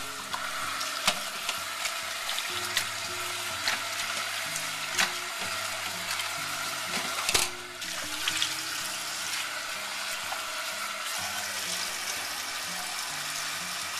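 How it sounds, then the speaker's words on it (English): Water from a tap runs steadily over thinly sliced beef short ribs being rinsed, a constant close splashing rush broken by a few clunks and a brief handling bump. "you want to rinse them off"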